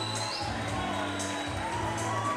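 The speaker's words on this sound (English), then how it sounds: "So he gets a loud response from the crowd here" A boxing arena crowd cheers and roars continuously as a fighter walks out to the ring, with entrance music and scattered shouts underneath a dense wall of noise.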